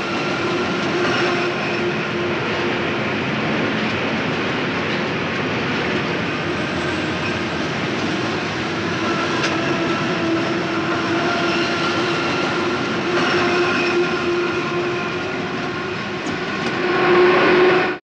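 Steady loud rumble and whine of a subway train in motion, continuous throughout with a slight surge near the end, no voices.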